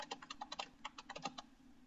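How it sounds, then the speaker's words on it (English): Quick bursts of clicking keystrokes on a computer keyboard during spreadsheet work, about a dozen sharp taps in an uneven rhythm, quiet and close, then a pause at the end. "I am also typing."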